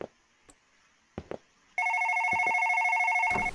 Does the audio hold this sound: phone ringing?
yes